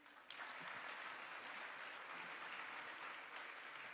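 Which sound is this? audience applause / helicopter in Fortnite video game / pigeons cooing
audience applause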